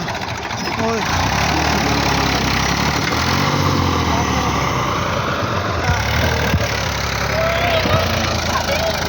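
A tractor 135 stuck while hauling a full load of soil, its diesel engine labouring in a loud continuous drone with a knocking edge, with people talking over it.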